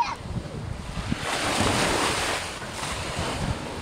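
Surf washes onto a beach in Phuket, Thailand, as a steady, rolling roar of breaking waves mixed with gusty wind buffeting the microphone.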